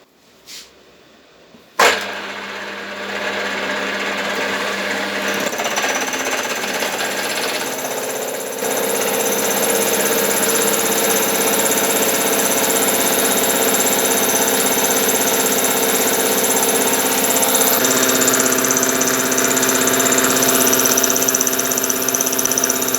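A metal lathe cuts with a homemade multi-tool cutter, taking a 3 mm pass in one go. A sharp start gives way to a loud, continuous grinding whir that grows slightly fuller as the cut proceeds.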